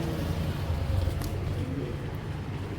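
Two club-raced racing pigeons coo low and steadily close by, a soft continuous rolling murmur with a faint chirp near the middle.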